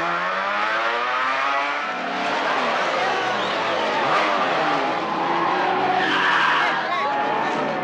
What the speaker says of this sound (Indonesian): Wahdi mengajak Jojo kebut-kebutan menggunakan motor andalannya Suzuki RG500 yang tentu aja sangat hits di zamannya